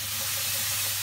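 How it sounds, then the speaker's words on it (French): Bell peppers sizzling while being sautéed in a pan, a steady, even hiss of frying that holds alone and unbroken for about a second. "Allez, je vais sauter un peu mes poivrons."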